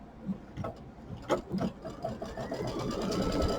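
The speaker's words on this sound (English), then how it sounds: "the second step on the machine is the tack down line" An embroidery sewing machine stitches a tack down line in the hoop, a close, rapid mechanical whirring and clatter that starts in uneven bursts and settles into a steady run by the end.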